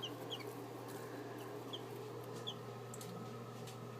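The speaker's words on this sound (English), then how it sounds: "3 new baby chicks." Three new baby chicks in an indoor brooder, with high, short peeps scattered through steady low background hum; chirps are faint to moderate and come irregularly, with no talking.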